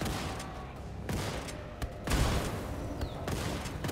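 Scattered gunshots crack out in short bursts over a busy background in Wolfenstein II: The New Colossus, a few sharper blasts standing out.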